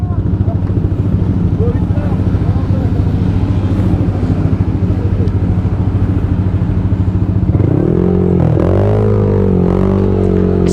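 Seven motorcycle engines idle with a steady rumbling putter, close by, outside a pizzeria in Tanay, Rizal; one revs up near the end with rising whines.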